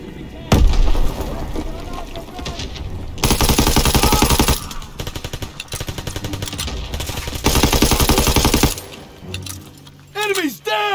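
Sustained bursts of machine gun fire in a Call of Duty WWII battle on Hill 493, loud and rapid with pauses between volleys, alongside explosions and shouted voices.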